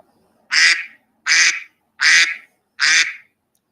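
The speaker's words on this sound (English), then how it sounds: "I got one good quack and I just repeated it" A single duck's quack, recorded once on a phone and looped, repeats four times in an even rhythm, each call loud, nasal and close with short silent gaps between.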